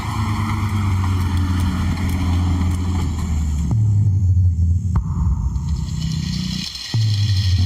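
A meat truck drives along an African track with a continuous low engine rumble, close and fairly loud, its pitch dropping and shifting as it changes gear, with a few knocks and clunks.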